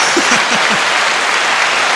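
Crowd applause sound effect, a steady, loud burst of dense clapping that fills the short stretch evenly from start to finish.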